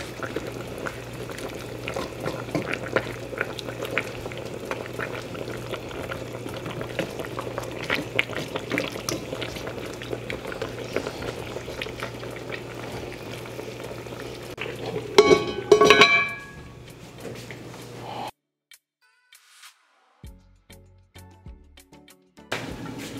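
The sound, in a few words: broth with vegetables and peppers boiling in pot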